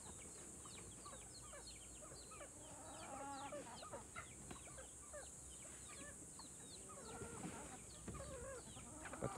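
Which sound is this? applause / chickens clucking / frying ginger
chickens clucking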